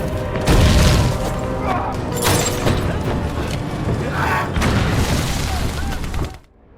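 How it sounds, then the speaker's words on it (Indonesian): Heavy explosions and bursts of gunfire from a brutal close-range tank battle in a war film, loud and continuous with booming blasts and rattling fire, ending abruptly in a cut to quiet. "barulah Tatsuo kerahkan pasukan cadangannya untuk menghabisi tank dari jarak dekat. Pertempuran jadi semakin brutal"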